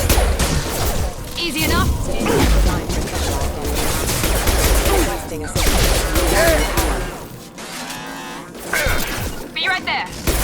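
Gunfire at hostile mechs in the video game Mass Effect 2: dense bursts of shots and impacts across the scene, loud and busy, with voices speaking briefly over the combat.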